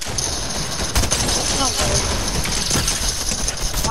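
Video game gunfire comes as a dense, continuous rattle of rapid shots from an automatic weapon, loud and close throughout, with voices talking over it.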